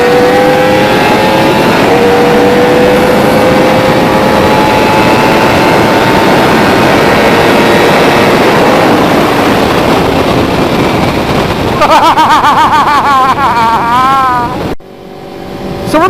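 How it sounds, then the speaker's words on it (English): A Suzuki GSX-R1000R sport bike cruises down a highway, its engine droning loud and steady with a sustained whine and rushing wind noise before a brief shift in tone near the end. "shots of Luke's amazing Gixxer 1000R cruising down the highway"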